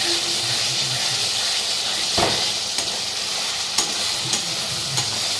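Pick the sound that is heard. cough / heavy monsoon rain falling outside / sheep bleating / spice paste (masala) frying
spice paste (masala) frying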